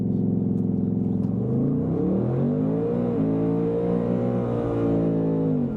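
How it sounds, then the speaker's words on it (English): A 2024 Ford Mustang Dark Horse with a 10-speed sits on line lock for a burnout, its V8 engine loud and close, holding a deep rumble then revving up and climbing steadily in pitch without pause. "I just want to put a little heat in the tire, so we'll do line lock."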